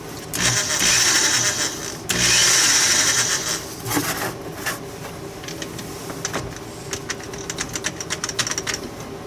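A new hammer drill drives bolts, producing two sustained, loud, close whirring bursts in the first few seconds, followed by scattered clicks and rattles as the bolts seat. No one speaks.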